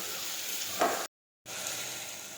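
Bottle gourd curry sizzling steadily in hot oil as sugar and spices are sautéed in, a continuous close frying hiss broken by a brief stir, a short gap of silence, then the sizzle resumes.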